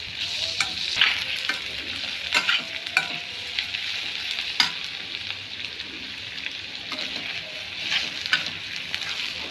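Chopped red onions sizzle in a hot pan in a home kitchen, a continuous close crackling hiss broken by occasional stirring scrapes and pops, with no talking.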